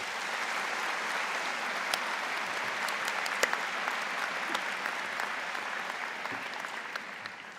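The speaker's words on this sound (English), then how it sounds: "Please join me in a round of applause for this wonderful platform party." A convocation audience claps for the platform party, a broad, continuous round of applause from a large crowd with a few sharper individual claps standing out, tapering gently near the end.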